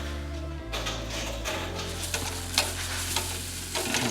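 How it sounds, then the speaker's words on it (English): Grain is mashed into hot strike water in an Anvil Foundry 10.5-gallon electric brewing system for a competition homebrew beer: a continuous gritty, rushing stir and pour, close and steady, over a low electrical hum that shifts pitch partway through. "Time to mash in on this competition beer."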